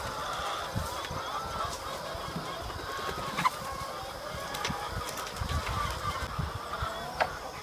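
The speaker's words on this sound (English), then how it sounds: "we're gonna go ahead and let the hens out" Hens clucking and calling as a large flock of about 1,000 birds comes out of a hoop coop onto fresh pasture, a steady outdoor chorus with a few louder squawks standing out.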